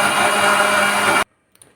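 A kitchen blender runs loud and steady at full speed, blending pumpkin and pineapple with half a glass of water, then cuts off abruptly into near silence with a faint clink.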